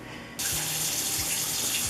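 Kitchen tap water pouring into a bowl for bread dough, a quiet moment then a sudden loud steady gush that continues evenly to the end.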